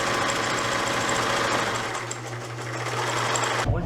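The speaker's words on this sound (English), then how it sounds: "1/2 inch and sew another seam." A sewing machine stitches a seam on a craft project, running loud and steady close up with a fast mechanical whir and chatter, then stopping abruptly at the end.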